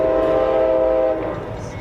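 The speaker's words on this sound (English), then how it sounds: "A man is walking along a bridge when suddenly a train comes fast in the opposite direction." A train speeds across a bridge, its loud sustained horn blaring close by, then cutting off and leaving a fainter rumble of the train.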